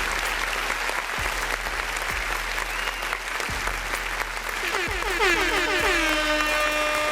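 Crowd applause and cheering throughout, with rising, sweeping air horn blasts from a sampler cutting in loudly near the end.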